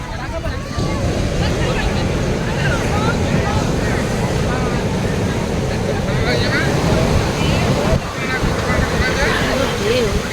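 Steady roar of surf with wind buffeting at Puri beach at night, waves washing in continuously for the whole stretch, dense and close.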